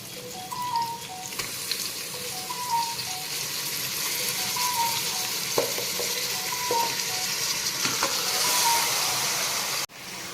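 Chicken being fried with browned onions for biryani, a continuous bright sizzle with repeated scraping strokes of a stirring utensil against the pan, close and alone.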